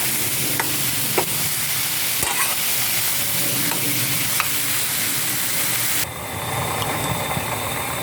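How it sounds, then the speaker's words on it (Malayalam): Capsicum and onion stir-fry sizzle loudly in a pan, a dense steady hiss with occasional scrapes and taps of a stirring spoon, the sound shifting slightly near the end, no talking. "ഇടയ്ക്കൊന്ന് ഇളക്കി കൊടുക്കാം."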